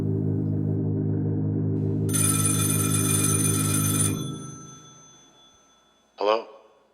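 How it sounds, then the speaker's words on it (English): An old-fashioned telephone bell rings continuously for a couple of seconds over a low hum, then fades, followed by a brief tone. "your phone is ringing"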